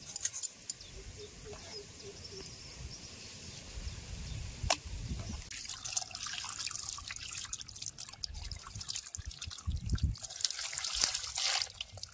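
Water trickles and drips steadily while fish is washed in a home kitchen for a fish fry, with a louder splashing, running stream in the second half.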